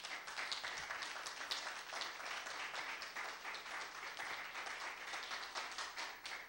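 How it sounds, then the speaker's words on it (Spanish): A church congregation breaks into sustained applause during a sermon, a dense, steady wash of many hands clapping together that holds at an even level throughout without pausing. "¿Por qué no le da un aplauso al Señor por eso?"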